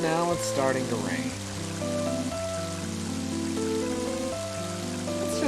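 In Mother 3, a continuous wash of falling rain runs under the game's stepped musical score, holding steady and fairly loud from start to finish.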